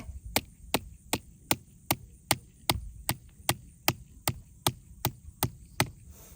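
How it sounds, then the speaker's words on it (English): A fence post is pounded into the ground on a pig pasture while a two-wire electric fence is being set up, giving about seventeen sharp, evenly spaced thumps in a steady rhythm, close and clear over a faint background hum. "I'm going to put the post in this way, in this direction. Pound that in."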